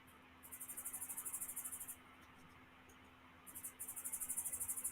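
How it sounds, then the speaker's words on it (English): A loose feeder cricket chirps near a bioactive reptile enclosure, giving rapid high pulsed trills in two bursts separated by a short pause, faint against a quiet room hum with no talking. "I think you've got a loose cricket there."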